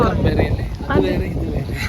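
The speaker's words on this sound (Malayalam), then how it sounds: "നല്ല കാറ്റുണ്ടല്ലേ ഭയങ്കര കാറ്റുണ്ട്" Strong wind buffets the microphone in loud, rumbling gusts while a person talks over it.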